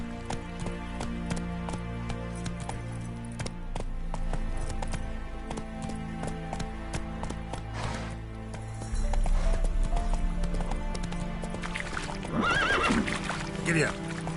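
A horse gallops across terrain in The Witcher 3: Wild Hunt, steady clip-clop hoofbeats running throughout with occasional whinnies, the pace picking up midway, while a rider talks over the action.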